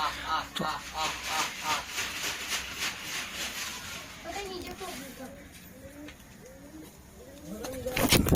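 Soft pigeon cooing from a wing-clipped Madras pigeon, low rounded coos repeating near the microphone in the second half, after busier sounds and possible voices early on.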